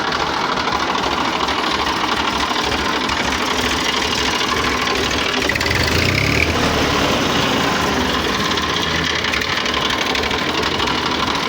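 An engine-only TAFE 5450 tractor runs steadily at idle, with a dense, continuous knocking rumble that stays loud and even throughout, with no voices.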